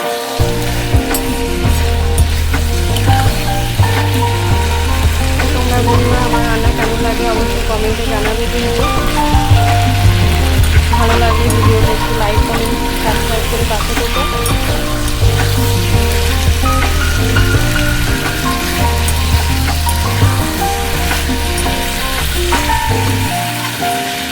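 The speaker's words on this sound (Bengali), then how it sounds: "তেলের মধ্যে চলো আলু আর ভাজা বেগুন কটা দিয়ে দিই এই দেখো বন্ধুরা আমি এবার এটাকে ভালো করে কষে নেব" Potatoes and fried eggplant sizzle steadily in hot oil in a home kitchen, a loud continuous crackle with faint stirring clatter and occasional background talk underneath.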